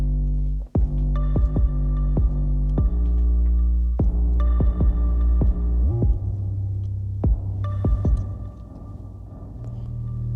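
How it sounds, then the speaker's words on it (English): A drum bus plays through a Night Sky reverb effect: loud, booming hits land in an irregular pattern, each trailing a ringing, tonal tail that hangs before the next strike. "just hear the reverb on the drum bus"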